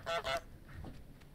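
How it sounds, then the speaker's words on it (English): Cartoonish goose honks from Untitled Goose Game, two quick loud honks followed by fainter game ambience. "every time a goose goes quack, quack, quack"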